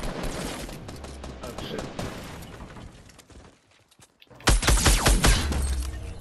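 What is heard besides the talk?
sniper gunfire in the video game Fortnite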